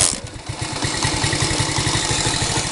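Alfa moped engine starting up, then settling into a steady, close, loud idle with a regular pulsing putter throughout.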